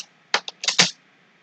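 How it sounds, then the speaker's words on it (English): Typing on a computer keyboard while coding, a short burst of four or five crisp, close keystrokes in quick irregular succession, with near silence around them. "just I am typing a dot catch also"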